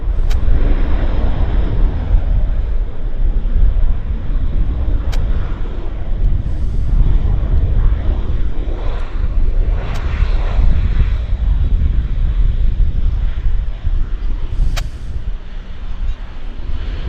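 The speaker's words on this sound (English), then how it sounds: "we've got another airplane on approach" A passenger airplane on approach to Vancouver Airport, its engine rumble a steady broadband roar that holds loud from start to finish, with faint background sounds and no clear talk.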